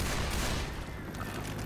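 Rapid gunfire in Left 4 Dead 2, a dense burst of overlapping shots at moderate volume that thins out after the first second into a softer rumble.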